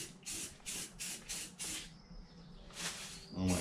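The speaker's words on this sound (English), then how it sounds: "Now, let's do some spray." Short hissing bursts of an aerosol spray paint can on a car cowl in a quick series, pausing briefly before two more bursts, close and fairly quiet.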